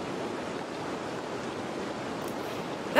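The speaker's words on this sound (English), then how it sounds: "That's a beautiful river, though." A river in a forest rushes with a steady, broad whoosh of flowing water, even and continuous at a moderate distance, with a brief sharper noise at the very end.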